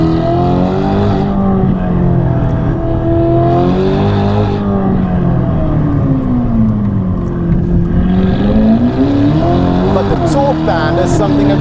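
Novitec-tuned 704hp Ferrari Roma supercar with a brutal exhaust system, its engine droning loudly and continuously as the pitch rises and falls through revs, with a voice talking over it.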